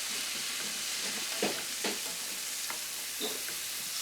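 Shallots and beans fry in olive oil in a pan, giving a steady soft sizzle with occasional stirring scrapes and light clatter, close up and with no voices.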